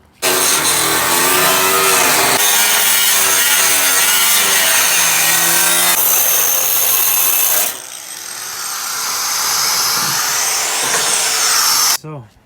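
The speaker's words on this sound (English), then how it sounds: "I cut it all crappy because this disc is not meant for cutting" Grinder disc cutting through a Nissan G35 car fender during a G37 front-end conversion, a loud continuous whining and grinding with shifting pitch, stopping briefly before a rougher stretch of cutting.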